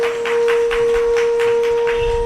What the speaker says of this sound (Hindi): ताली कमजोर बजी है